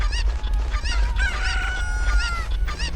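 Chickens in the Pokemon Violet video game give repeated short, nasal clucking squawks in quick succession over a steady low background hum.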